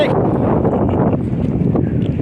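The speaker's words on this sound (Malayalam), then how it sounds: "നല്ല കാറ്റടിക്കുന്നുണ്ട്" Strong wind buffets the microphone in a loud, continuous roar with gusty fluctuations at a hilltop viewpoint, no clear voices.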